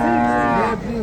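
A dairy cow moos loudly and close at a cattle market, one long drawn-out lowing call that fades near the end, with no talk over it.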